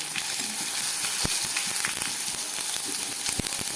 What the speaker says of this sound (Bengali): টমেটোটা ভাজা হয়ে গেছে দিয়ে দিচ্ছি হাফ চামচ মতো জিরের গুঁড়ো